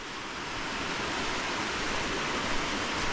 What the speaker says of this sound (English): Water's really flowing through here.